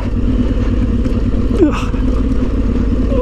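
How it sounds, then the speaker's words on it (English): An Aprilia Tuareg 660 motorcycle engine-brakes in a low gear on a Yorkshire Dales trail, droning loudly and steadily, a rough low rumble with a brief higher whine partway through. "drop it down a gear, use an engine braking"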